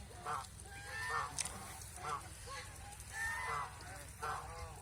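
Ducks on a duck farm holding 185 breeding birds, 45 drakes and 140 laying hens, give repeated nasal honking calls in short bursts about every second, close and moderately loud over a steady low farmyard hum.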